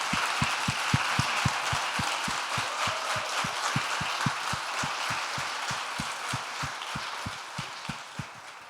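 An audience applauds, a dense wash of clapping hands that stays steady throughout, with a regular rhythmic thump running underneath.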